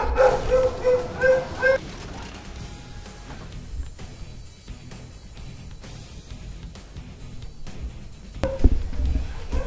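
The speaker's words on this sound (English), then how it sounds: "my dogs are barking their asses off" Dogs bark indoors, a burst of repeated yips and barks at the start, then softer whimpers and occasional barks, a little distant and muffled under background noise.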